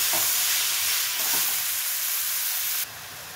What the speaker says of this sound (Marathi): आणि हा बारीक चिरून घेतलेला पालक। त्याला व्यवस्थित हलवून घेऊया।